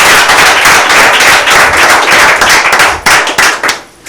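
Loud, dense applause from an audience at a certificate ceremony for challengers, steady and close for several seconds before thinning out into a few last claps and fading.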